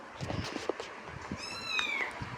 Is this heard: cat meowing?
yes